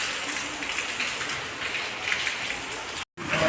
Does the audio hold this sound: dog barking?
no